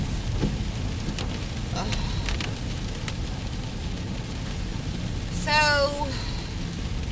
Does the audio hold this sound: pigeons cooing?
no